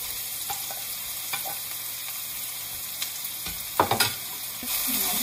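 Ripe tomatoes stirred and sautéing in a skillet give a soft, steady sizzle with scattered scrapes and light clinks of a utensil, a few louder stirring knocks near the end, and no talking.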